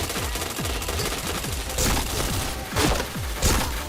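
Video game gunfire rattles in rapid automatic bursts, a dense run of close, loud shots with a few heavier booms, lasting about four seconds without pause.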